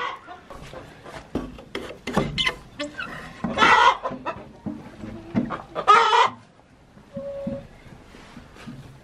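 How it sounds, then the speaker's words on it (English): A small, feisty broody hen on a homestead clucks and squawks in sharp, irregular bursts close by, with a couple of louder agitated calls, and no talk over it. "We've got this little broody hen down here."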